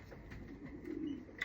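A young weaned pigeon cooing softly at a pigeon loft, low, faint throaty coos close by with a brief higher note near the end.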